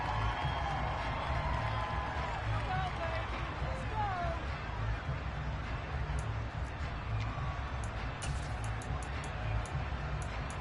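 A football stadium crowd applauds and cheers the defense at a Seattle–Bills game, a continuous, loud wash of clapping and hubbub that lasts the whole stretch, with a commentator talking over it.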